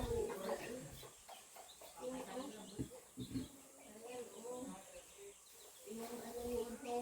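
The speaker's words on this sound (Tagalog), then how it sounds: "Saan ka pa nakakita ng ganitong manok?" Several chickens cluck and murmur nearby in short, irregular bursts, with a person talking intermittently over them.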